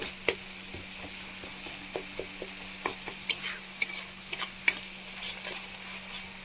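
Spice paste with salt, turmeric and dried chilli powder for bhola fish curry is stirred in a pan, a series of sharp metal spoon scrapes and clinks over a faint sizzle, irregular and close, with no voices.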